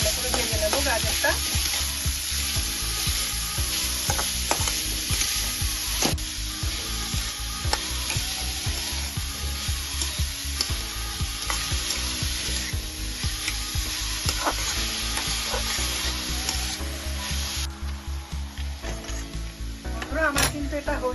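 Grated carrots fry in a pan over medium-low flame, a steady close sizzle with light stirring scrapes throughout and no voices.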